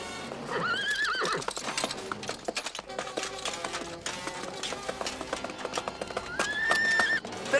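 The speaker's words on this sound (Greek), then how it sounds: "Τρέχα, καταραμένο άλογο!" A horse in a dubbed Don Quixote adventure neighs loudly at the start and again near the end, with brisk galloping hoofbeats clattering steadily in between.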